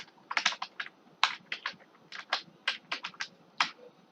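Typing on a computer keyboard, a string of crisp close keystrokes in uneven bursts of single and double taps with short pauses between, clear against a quiet background.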